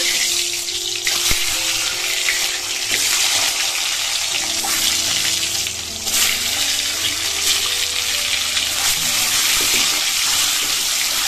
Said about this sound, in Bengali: তো চলো ডিমটা ভেজে নিই।